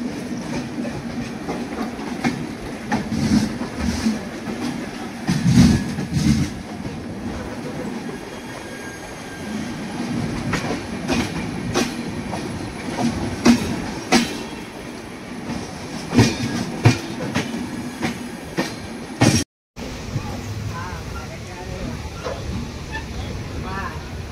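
Bengaluru–Howrah Humsafar express in motion, continuous wheel rumble and rhythmic clickety-clack with sharp rail clicks and occasional squeal, a brief dropout near the end, and talking at times over the din.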